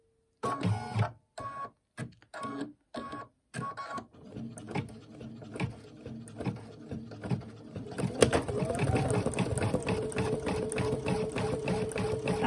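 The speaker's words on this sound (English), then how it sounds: "And a bit like Philippa, I've started using the clear vinyl you can get as well to stitch these on rather than the tear away." Embroidery machine stitching a gingerbread man design onto clear vinyl: bursts of rapid mechanical clatter separated by short pauses, then a steady, continuous stitching rhythm that runs to the end, close and moderately loud.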